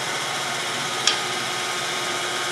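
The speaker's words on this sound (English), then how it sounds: "Now I'm going to switch to a bowl gouge" A bowl gouge cutting wood on a spinning lathe while turning a lidded box, a steady, loud, broadband hiss of shaving with one brief sharp catch partway through, no talking.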